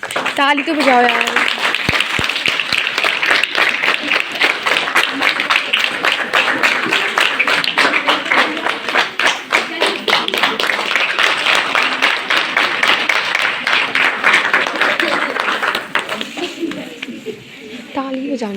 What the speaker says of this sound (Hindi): ताली तो बजाओ यार।